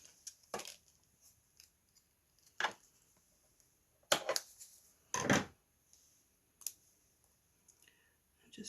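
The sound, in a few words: cutting off a piece of dimensional tape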